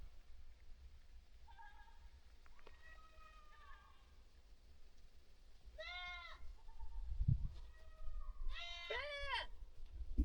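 Several goats in Morocco's Todgha Gorge bleat in short, wavering cries, some faint and distant, others louder and overlapping, over a quiet outdoor hush with low wind rumble.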